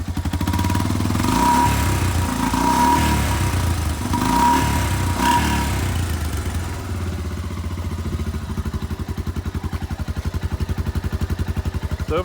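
A Honda Foreman 350 four-wheel-drive ATV with a repaired muffler idles close by, a steady low putter with a slight clatter that dips and settles into an even rhythmic chug.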